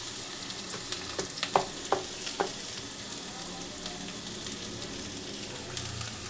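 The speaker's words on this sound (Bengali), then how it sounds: "তো আমার তেলটা গরম হয়ে গেছে বন্ধুরা, পেঁয়াজটা আমি এতে আগে দিয়ে দিলাম।" Onion and green chili hit hot oil, giving a steady sizzle with a few sharp crackles and pops early on, close and moderately loud, no voices.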